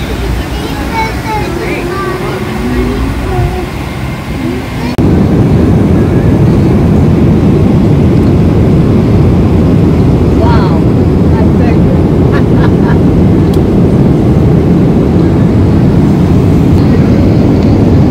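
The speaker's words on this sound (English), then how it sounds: "Finally on the plane on Emirates, going to Dubai." Inside an Emirates airliner cabin bound for Dubai, a steady loud engine roar fills the space after a quieter opening stretch, with occasional faint voices.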